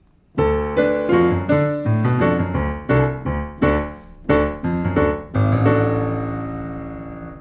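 Piano chords of the 1980s Grange Hill theme struck in a steady pattern with a low left-hand bass line underneath, each chord ringing briefly before the next, ending on a long sustained chord.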